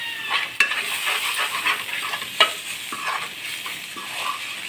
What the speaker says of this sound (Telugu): ఫ్రై చేసుకోండి, పచ్చివాసన పోయేంత వరకు